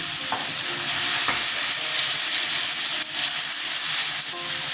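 Ground turmeric, cumin and coriander powder sizzling and frying in a pan for a Bengali aloo potol curry, with steady close hiss and a few scraping stirs of a spatula throughout.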